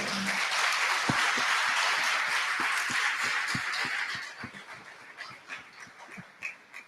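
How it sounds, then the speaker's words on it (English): Audience applause after an Ayurveda wellness workshop, a steady wash of many hands clapping that holds loud for about four seconds, then thins into scattered individual claps as it dies away. "Let's all give Dr. Nisha a big round of applause."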